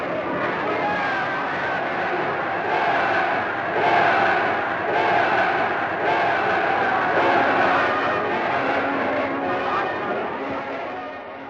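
A large Hungarian crowd at a political rally under Rákosi roars in swelling waves of shouting and cheering. The sound is dense and somewhat distant, with the muffled tone of an old recording and no single voice standing out.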